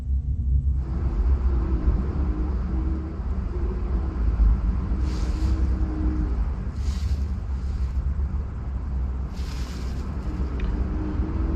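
Wind rumbles through a forest at night as a low, steady roar with gusting swells and faint higher hissing bursts, continuous throughout and without any talking.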